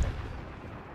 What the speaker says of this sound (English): I'm gonna order cannon shot into that area.